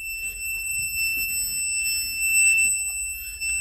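A continuous high-pitched low-battery alarm from a pack of old lead-acid batteries drones steadily throughout, with faint low rumbling noises underneath.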